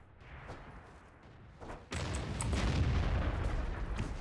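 Artillery gun firing in the tank game World of Tanks, one heavy boom near the two-second mark that leaves a long rumbling tail, after quieter background battle noise.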